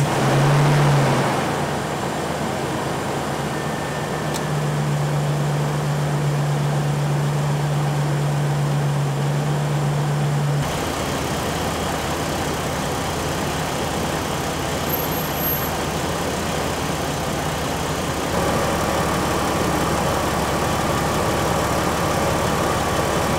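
Jeep TJ engine idling after sitting for hours, during a radiator fan upgrade test, a steady loud drone with a constant low hum and a shift in tone partway through, no voices.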